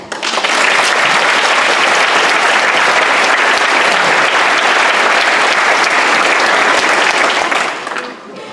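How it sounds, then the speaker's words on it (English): A graduation commencement audience applauds loudly, dense sustained clapping filling the hall for several seconds before tapering off at the end. "A round of applause."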